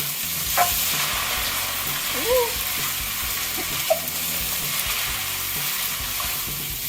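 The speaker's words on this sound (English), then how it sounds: "Then I'm going to mix it all in, toss it all in." Drunken noodles tossed with chives and basil in a hot pan, a continuous frying sizzle broken by scraping stirs and clanks of the utensil, with a brief murmur of voice in the background.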